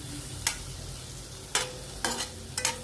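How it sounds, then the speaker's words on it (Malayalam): A spice mixture for egg roast is stirred in an iron pan, giving four short, sharp scraping strokes spaced unevenly over a low, steady background hum, with no voices. "ഇതെല്ലാം കൂടി ഒന്ന് നമുക്ക് മിക്സ് ചെയ്തെടുക്കാം"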